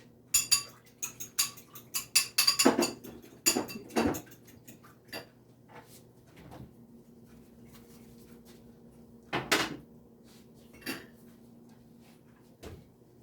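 Eggs with a splash of lemon juice being whisked in a bowl, sharp clinks and taps of utensil against the bowl in quick bursts, then sparser strikes with pauses between, close up and alone.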